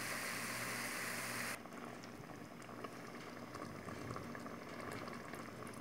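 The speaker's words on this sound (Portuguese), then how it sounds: "E aqui tá cozinhando," A pot of homemade hot dog sauce with sausage and vegetables simmers and bubbles steadily close up. A brief hiss opens it, and a continuous low burbling with faint pops follows.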